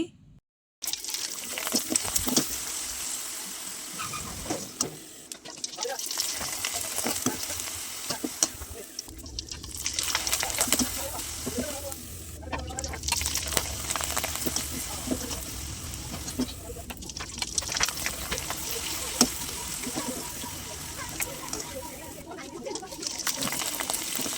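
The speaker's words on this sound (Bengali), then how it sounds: "একে একে এভাবেই আমি পিঠাগুলো ভেজে নিচ্ছি" Rice flour syringe pitha frying in soybean oil, a steady close sizzle with scraping and stirring noises, broken by brief pauses.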